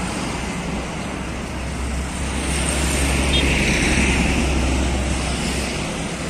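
Congested road traffic in a jam near Pasar Padang Luar, heard as a steady, broad roar of engines and tyres with a low rumble that swells slightly midway, continuous and unbroken.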